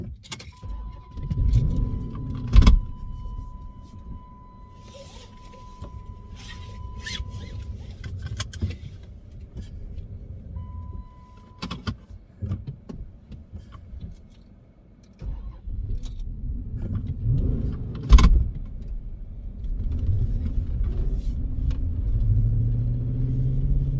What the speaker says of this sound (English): It's actually 2 attempts to get her started and stay running.